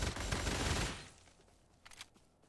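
An AN-94 Abakan rifle in a video game fires a loud, dense burst that lasts just under a second, then fades into a quieter tail with one faint pop near the end.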